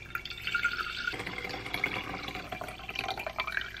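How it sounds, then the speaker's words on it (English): Filtered cold brew coffee poured from a jar through a screen, a light trickle with soft drips and splashes at close range, quiet and unbroken, with no voices. "Then you pour out the filtered coffee."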